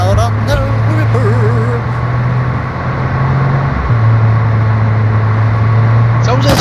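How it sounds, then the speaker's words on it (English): A car driving on a flat tire in the video game DMZ gives a steady, droning low engine hum that dips briefly partway through, heard under ongoing talk. "Sounds like it's got a flat tire, doesn't it, this car?"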